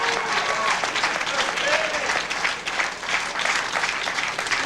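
A bowling crowd at a 1998 PBA tournament applauds steadily, a dense, loud wash of clapping that holds throughout.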